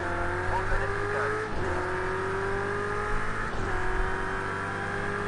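McLaren race car in a racing video game, its engine droning steadily with shifting pitch over about five seconds, one or two brief gear-change dips, faint tire noise and a voice talking over it.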